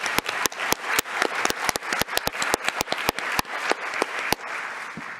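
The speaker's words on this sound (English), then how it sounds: "Applause to you, Tiago, of course, and your team" An audience at a plenary session claps, sparse individual hand claps ringing out in a loose, uneven rhythm that keeps going throughout.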